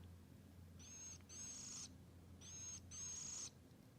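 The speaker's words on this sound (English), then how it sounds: "This is Mr. Cedar Waxwing, and he has a kind of a quiet chirp." A cedar waxwing gives thin, high, quiet chirps in two short bursts, each made of a few clustered notes, faint against a low steady background hum.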